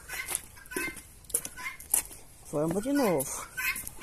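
Hens loose from an opened backyard gate cluck and squawk in short bursts close by, with one drawn-out rising-falling call, while a person talks over them.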